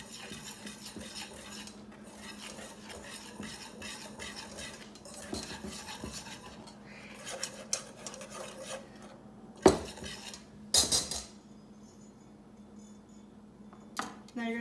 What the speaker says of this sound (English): And now you're going to whisk it.